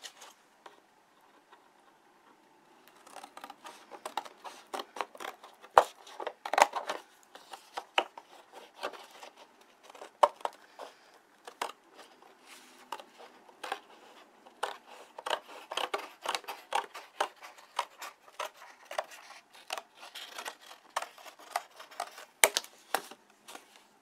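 Scissors slice through rigid paperboard along a traced outline, a steady run of crisp snipping cuts that starts after a brief quiet and continues close and distinct throughout, with no talking.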